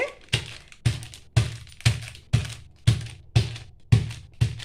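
Steady rhythmic pounding of turkey berries with a pestle, about nine heavy thuds roughly half a second apart, each a dull wooden knock with a brief crackle, close and alone.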